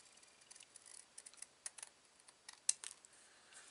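Paper being trimmed for a handmade sketch card, a quiet series of small crisp snips and clicks, close and faint, with no talk.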